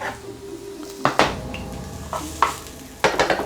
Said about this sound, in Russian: И отправляем это дело в сковородку.